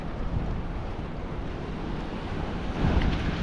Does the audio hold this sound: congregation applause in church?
no